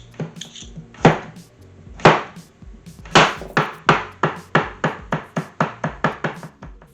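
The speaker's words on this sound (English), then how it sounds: "I'm going to chop some thyme" Knife chopping thyme on a cutting board: a few spaced, sharp thwacks, then a steady run of about a dozen evenly timed, crisp chops, close and clear with no talking.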